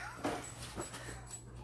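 A dog with a collapsed trachea gives faint, brief whimpers and soft nasal whines indoors against a steady low hum.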